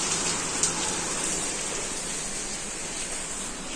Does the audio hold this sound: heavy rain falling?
yes